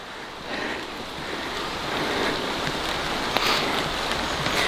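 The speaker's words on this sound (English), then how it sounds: "I think maybe the rain adds some flavor, some character" Steady rain falling in Kingdom Hearts III, a continuous soft hiss of drops with a faint surf-like wash, even and unbroken throughout, with no voices.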